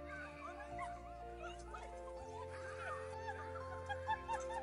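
A schnauzer whimpers and yips excitedly on being reunited with its owner after two years apart, high whines rising and falling over a steady background hum with some faint laughter.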